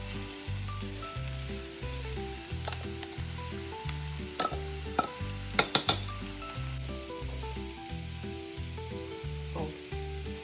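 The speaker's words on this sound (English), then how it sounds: "Add in our cauliflower." Cauliflower rice sizzles and fries loudly in a pan with onion and garlic, a constant close crackle with a few sharp spatters and stirring scrapes over a steady low hum.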